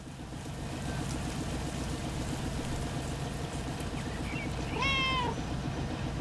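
A cat being petted gives one short rising meow near the end, heard over a steady low engine rumble that runs throughout.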